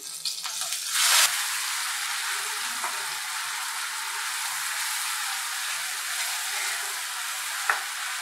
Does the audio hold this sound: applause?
no